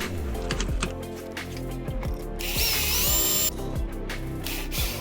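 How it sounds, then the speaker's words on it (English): A power drill whirs in short, repeated bursts while boring pilot holes into scrap-wood step stool legs, its motor pitch rising and falling with each push, close and loud. "I like to pre-drill pilot holes to keep the legs from splitting."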